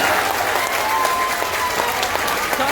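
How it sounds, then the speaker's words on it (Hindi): A crowd at a Jan Suraaj Party political rally in Belaganj, Bihar, claps loudly and continuously, a thick steady wash of applause with no break and faint background voices. "एक बार आप ताली बजाइए"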